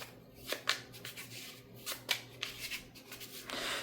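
A deck of Middle-earth collectible cards is shuffled by hand at close range, with a series of crisp riffling flutters and soft slaps in an uneven rhythm, no talking over it.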